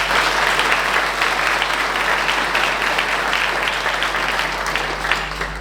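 Sustained audience applause at a town New Year's greetings ceremony in Viviers, a dense, steady wash of many hands clapping close and loud throughout, with a low constant hum underneath.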